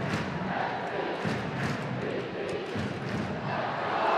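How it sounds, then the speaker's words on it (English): Stadium crowd noise at Providence Park during a Portland Thorns women's soccer match, a broad steady roar of the fans that stays continuous and fairly loud throughout, with no clear speech. "The crowd here at Providence Park, Marianne Doherty, really appreciating the attack mode of the Thorns tonight."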